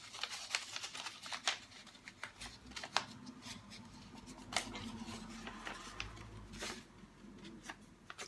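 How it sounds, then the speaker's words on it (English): Scissors snipping a series of straight lines down the fold of paper for a giant paper flower, with crisp, fairly quiet cuts repeating at an irregular pace. "On the fold, I'm going to cut lines, just going straight down."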